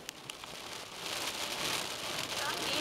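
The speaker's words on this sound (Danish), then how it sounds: "Det var godt vejr, men nu det regner igen pludselig." Steady rain falling, heard from inside a vehicle on a drive around Bogø, Denmark; a broad, even hiss that thickens after the first second, with a couple of faint taps near the start.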